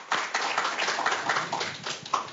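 Audience applause at a public forum in Jeju, a dense crowd clapping steadily at moderate loudness with no voices over it, swelling slightly before tapering near the end.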